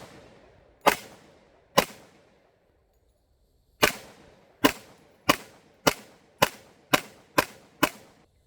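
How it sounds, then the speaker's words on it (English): A Springfield Armory XDM 10mm pistol fires ten loud, sharp shots at an outdoor range, two spaced slowly, then a pause, then eight in a quicker, steady string, each shot followed by a short decaying echo. "This thing is so amazing to shoot."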